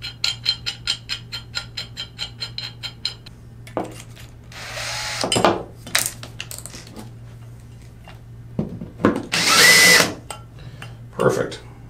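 A power drill runs in short, loud bursts cutting a hole in sheet metal, with rapid clicking at the start and scraping, handling noises between the cuts.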